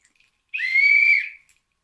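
A single sharp whistle blast rings out loud and clear, holding steady for under a second before cutting off, with silence around it.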